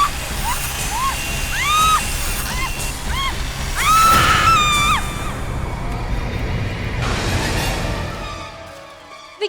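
A woman screams in a Hindi horror television show. Several short, wavering cries are followed by a longer, sustained shriek, all over a loud, noisy dramatic background.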